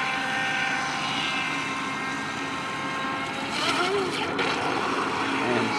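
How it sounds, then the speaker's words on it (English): A DH 7009 RC boat runs at full throttle through a turn on a lake, its small motor whining steadily and continuously at moderate distance, with a rise in intensity near the end. "And we're at a full throttle turn."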